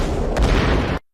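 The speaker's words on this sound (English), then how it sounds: "there is a big explosion in the jungle" A big explosion in a jungle during a science-fiction film, heard as a loud, sustained roaring rumble with a heavier low thump partway through, cutting off abruptly into silence.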